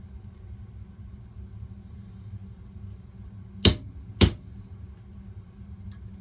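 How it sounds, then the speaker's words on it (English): Two sharp metallic strikes of a hammer on a center punch, marking metal for a drill bit, about half a second apart, ringing out over a low background rumble. "we're just going to put a punch mark so the drill bit has a place to sit."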